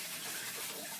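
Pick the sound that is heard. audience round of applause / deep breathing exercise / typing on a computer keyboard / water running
water running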